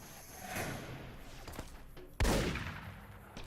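Gunfire in Fallout New Vegas with the DUST mod: one sharp, loud shot stands out against a murky, noisy background, with a few fainter thuds and clicks before it.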